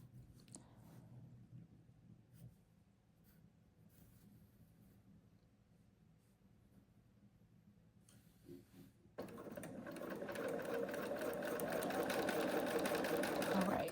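A sewing machine stitches a quilt square, starting after a quiet stretch with faint handling sounds and running as a steady, fairly loud whir for the last several seconds.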